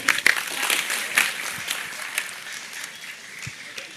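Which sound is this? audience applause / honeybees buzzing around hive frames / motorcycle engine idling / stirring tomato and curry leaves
audience applause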